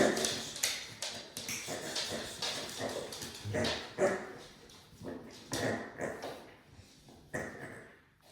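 German shepherd puppy in training whimpers and lets out a small squeak indoors, with short whines and yips mixed with tapping sounds and a person talking.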